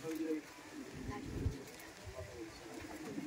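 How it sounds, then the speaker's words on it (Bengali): A male jack pigeon coos softly nearby, low murmuring calls repeating against faint background noise and a voice. "জ্যাক পায়রা দেখাচ্ছি আপনাদের"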